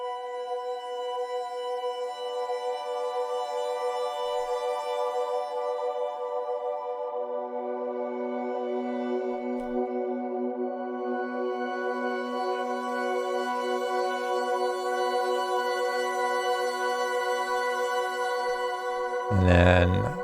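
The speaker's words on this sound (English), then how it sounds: "This Omnisphere pad," A soft Omnisphere Sacred Shrine synth pad holds sustained four-note chords, a new note entering partway and the harmony shifting gently, alone and dreamy, with a brief bright burst right at the end.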